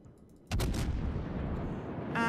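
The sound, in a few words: USS New Orleans firing its guns in World of Warships video game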